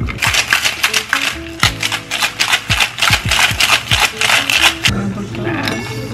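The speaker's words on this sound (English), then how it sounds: "I'm gonna add a little bit more juice. And then shake it up." A cocktail shaker full of ice and juice is shaken hard, giving a fast, loud, rhythmic rattle of ice striking the tin for several seconds before it stops.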